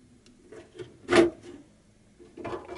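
Lenovo ThinkCentre Edge E72 desktop case side panel is pulled off, one loud scraping slide of metal near the middle, with softer rubbing handling noises around it.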